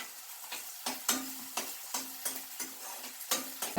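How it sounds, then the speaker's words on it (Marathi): Chopped onion stirs in hot oil, a light sizzle under a regular series of sharp spatula scrapes and taps against the pan, about two per second. "आता आपण हे कांदा आपण तेलात टाकूया, परतून घेऊया."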